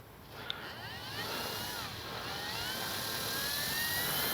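A radio-controlled F4U Corsair warbird model plane at about three-quarter throttle gives a steady, high engine whine that slowly rises and grows louder as it passes at a distance outdoors.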